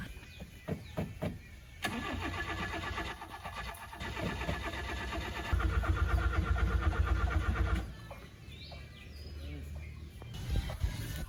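Carbureted Toyota Corolla being started: the starter cranks with short bursts, then the engine catches and runs loudly with a rough, pulsing idle before settling, birds chirping faintly around it.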